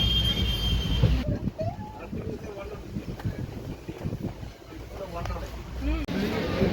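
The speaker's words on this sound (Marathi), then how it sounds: "मिरजवरून आपली ट्रेन जी आहे ती निघालेली आहे" The Koyna Express pulls out of Miraj Junction with a low rolling rumble, wheel noise and wind buffeting, while a person talks over it.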